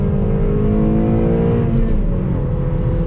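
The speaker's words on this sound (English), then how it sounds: "You can definitely hear that K-Series motor. It's a lot louder than some of the other Acuras that I have." The K-Series engine of a 2013 Acura ILX with a six-speed manual rises in a loud, close, steady rev, with a deep droning hum and climbing tone and no talk.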